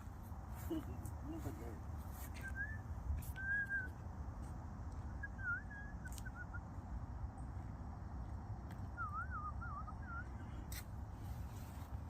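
A person whistles several short, faint melodic phrases at a distance over a steady outdoor rumble, with occasional sharp clicks, in the arboretum of the Royal Botanical Gardens, Hamilton.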